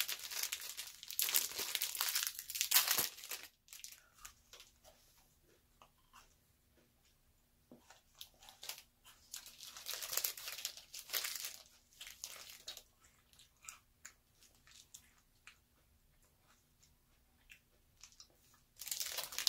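A Butterfinger chocolate bar, crunchy peanut butter candy, being unwrapped and eaten: bursts of loud wrapper crinkling and tearing up close, followed by softer crunchy bites and chewing with quiet gaps between.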